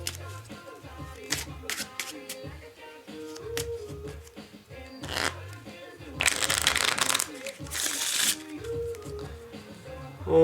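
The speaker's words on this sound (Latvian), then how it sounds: "mēs viņu uzliekam atpakaļ un samaisam kārtas" A deck of playing cards is shuffled during a card trick, with quick riffling bursts and soft card handling amid clicks, and someone talks over much of it.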